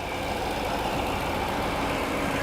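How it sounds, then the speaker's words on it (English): A Jaguar XJR engine runs with a steady low rumble and even mechanical hum, close by and unbroken, with no voices. "The engine sounds great."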